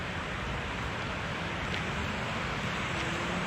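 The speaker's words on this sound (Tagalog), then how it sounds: "Medyo mahangin ang papawirin natin ngayon" Steady outdoor wind rushing and buffeting a microphone, a broad continuous roar with no voices, constant throughout.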